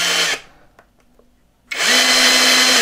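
A Heimerdinger LB142 cordless grease gun motor whirs loudly and close, stops for about a second and a half with small clicks, then starts up again at a steady high-pitched drone.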